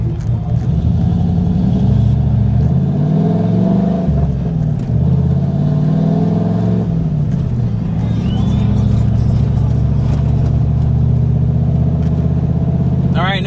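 Lumpy idle and low revving of a cammed 6.0 V8 in a Chevy Silverado with a five-speed manual swap, heard from inside the cab as a steady deep rumble that swells and falls through the run.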